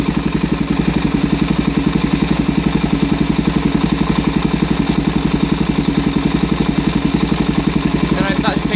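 Motorcycle engine idling with a dense, steady ticking clatter from the cam chain, manual tensioner backed off, fitted with a stubby exhaust; close and continuous, with speech-like tones near the end.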